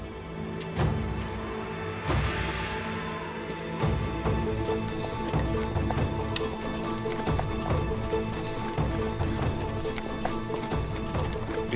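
Rhythmic hoofbeats of a horse running, steady and close, with a few sharper thuds near the start.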